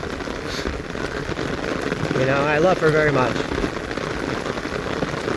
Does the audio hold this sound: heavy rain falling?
yes